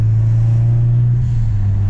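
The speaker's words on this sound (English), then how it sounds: "Listen to that turbo." Turbocharged, modified Dodge Scat Pack engine running nearby, a loud steady low drone with a strong sustained hum, no talk.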